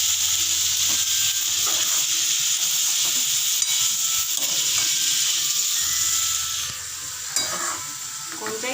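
Tomatoes sizzle and fry in a pan for pasta, a steady hiss with intermittent scraping and stirring clicks from a spoon, close and continuous, with no talking.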